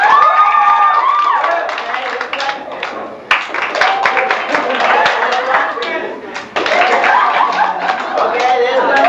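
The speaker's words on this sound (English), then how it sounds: "Everybody that likes her real good," A crowd at a small-town event claps loudly and unevenly, with cheering and overlapping voices mixed in, a dense, close burst that keeps going with brief dips.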